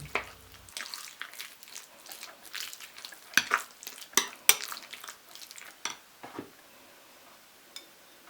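Minced meat being mixed by hand in a bowl for Ukrainian brizoli, soft wet squelching and scattered light clinks of utensil on dish, quiet and close with pauses.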